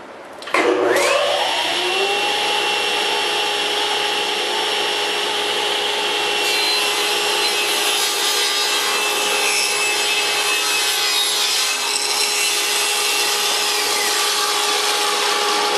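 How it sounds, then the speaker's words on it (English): Table saw cutting through an end grain board pushed on a jig, a loud continuous whine with the blade biting through wood from start to finish. "Push the whole jig all the way through the blade."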